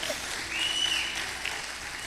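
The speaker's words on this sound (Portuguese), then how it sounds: "Aplaudir bem forte, Zé" A church congregation clapping during a sermon, a steady wash of applause heard at a moderate distance, continuous and even throughout without clear breaks.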